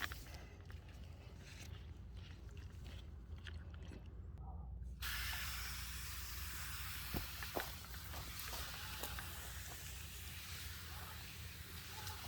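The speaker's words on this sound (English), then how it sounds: "This will give me a fine mist for foliar spray." A pressure sprayer mists a boron foliar spray onto avocado tree leaves, a steady broadband hiss that begins abruptly partway through and continues, with faint clicks and rustles nearby.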